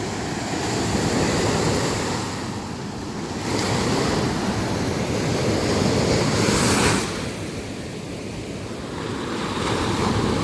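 Ocean waves surge and wash continuously, loud and broadband, with swells rising and falling and a brief brighter crash near the middle, mixed with some wind rumble on the microphone.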